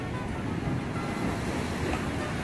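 Ocean surf on a Puerto Rico shore roars as a large wave breaks, a dense, loud, steady wash of crashing water with wind buffeting the microphone.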